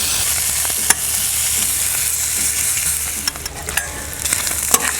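Brisket and pulled pork sizzling on an oiled griddle of a Lone Star Grillz offset smoker, a loud continuous hiss broken by a few sharp scraping clicks of a spatula.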